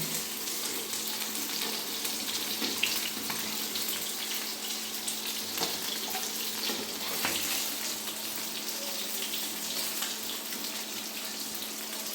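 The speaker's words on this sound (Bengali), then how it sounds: "মাছগুলি ভাজা হয়ে গেছে, এখন মাছগুলি তুলে দেব।" River kalibaush fish frying in oil in a pan, a continuous crackling sizzle with scattered sharper pops and occasional utensil clinks, steady and close without talk.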